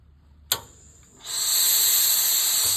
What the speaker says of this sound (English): Just going to get the iron really hot with some steam